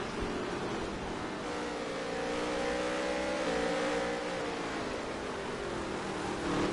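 Dirt track race cars in a heat race at Las Vegas, engines roaring steadily as a pack with rising and falling revs, loud and continuous throughout with no talk.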